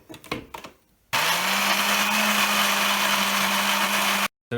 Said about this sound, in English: So it's not quite blending enough yet